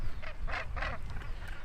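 Seabirds near the coast, among them guillemots and razorbills, call while flying close by. Three or four harsh, honking cries come one after another, close and clear above a low wind rumble.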